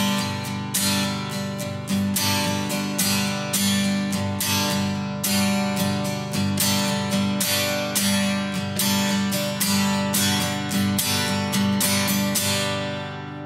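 Acoustic guitar strummed in a steady down-up pattern with certain notes accented, playing dense, even, close chords alone for the whole stretch.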